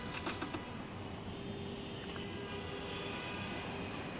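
A continuous airplane engine roar from a video game plane taking off holds steady and loud throughout, with a few faint clicks at the start and no speech.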